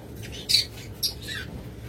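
Pet diamond doves kept in pairs let out two short, sharp squawks close by over a low background hum, with no talk.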